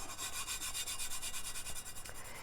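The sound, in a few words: rubbing holographic glitter onto a Tack It coated tumbler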